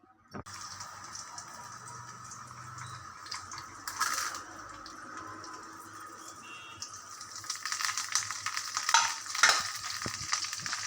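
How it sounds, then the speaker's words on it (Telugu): Dried red chillies, garlic, cumin, mustard seeds, chana dal and curry leaves for a tempering sizzle in hot oil, starting soft and growing into louder crackling bursts, with a faint metallic clink near the start. "తాలింపు పెడుతున్నాను."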